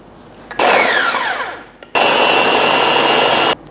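A food processor whirs loudly as it grinds chicken dumpling filling with spring onion, egg, pepper, salt and sugar, two bursts of high, steady motor whine, the first easing down before a pause and a second run.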